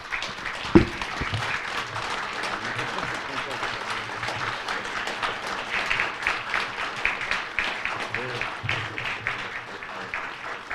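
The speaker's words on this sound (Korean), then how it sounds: "여러분들께서는 이 선언에 찬동하시면 일어서서 박수로 뜻을 표시해 주기 바랍니다." A standing audience at a political forum launch in Korea applauds in support of a declaration backing a presidential candidate, steady dense clapping filling the room for the whole stretch, with a brief thump near the start.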